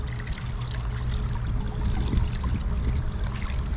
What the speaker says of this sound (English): That's a nice hot water coming out.